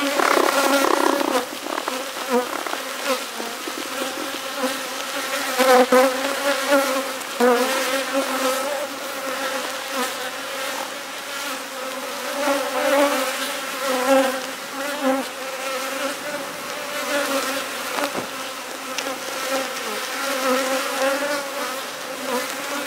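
Honeybees, lightly smoked and growing restless during a hive split, fill the air with a dense, close, unbroken buzz that swells and dips slightly throughout.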